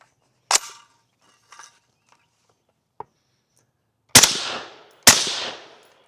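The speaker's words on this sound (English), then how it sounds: "why don't I do 2 shots? See if we get bolt lock back after, get cycling on 2 rounds." Two sharp, loud rifle shots about a second apart from a Steyr AUG fitted with a KNS Precision gas discarder, each cracking close with a short echoing tail, after a few faint clicks and handling taps.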